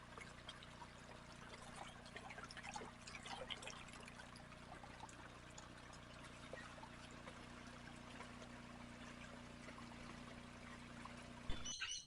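Clean creek water runs steadily through a gold prospecting sluice at Deep Creek, New South Wales: a continuous trickling, pouring wash at an even level, with a brief louder knock near the end.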